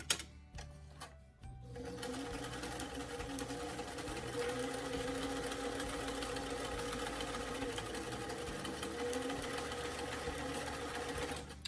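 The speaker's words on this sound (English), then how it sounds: "now we have both of our cuff edges of the jacket sewn" A sewing machine runs steadily, stitching the cuff edges of a fuzzy doll coat, its motor humming loud and continuous after a few brief starts and stops at the beginning.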